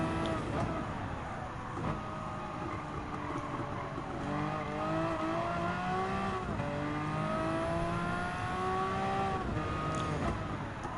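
Porsche 962C Group C race cars in the Gran Turismo 7 racing game roar continuously, their engines revving up and down through gear changes, loud and steady with no talk.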